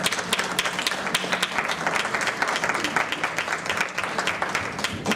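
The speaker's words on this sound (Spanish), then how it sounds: "Démosle un fuerte aplauso al maestro Tomás." Sustained, dense applause from a lecture audience welcoming a researcher to the podium for a talk on turtles, steady and fairly loud throughout with no voices over it.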